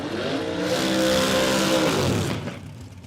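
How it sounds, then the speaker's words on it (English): Rear-engine nitro dragster at Warwick Dragway in Australia during qualifying, a loud roaring engine that rises in pitch as it passes close by, then fades quickly into the distance. "Bruce Mansfield in the rear engine dragster."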